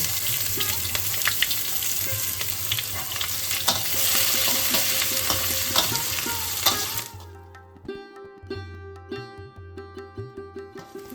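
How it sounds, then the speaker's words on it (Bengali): Loud, dense sizzling of chopped onions frying in hot oil, then a quieter stretch where utensils scrape and clink as they are stirred. "ফোড়ন থেকে যখন একটা সুন্দর গন্ধ বেরোবে তখন আমরা কুচনো পেঁয়াজ দিয়ে দিচ্ছি"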